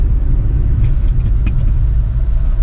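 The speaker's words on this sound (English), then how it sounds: "So torquey is this little engine that, well, we'll show you." Suzuki kei truck with the small torquey F6A engine pulling away, a loud steady low rumble of the motor close by with brief clicks and rattles over it.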